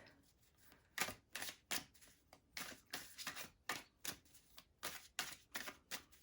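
Repeated crisp riffling and snapping of tarot cards being shuffled, close up, in quick irregular bursts with short pauses, no talking.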